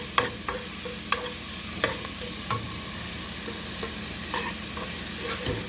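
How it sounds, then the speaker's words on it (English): Vegetables for oyster stew sizzle steadily in a pot while a utensil scrapes and clacks against it every second or so, close and alone. "You just want to saute it down till it gets soft."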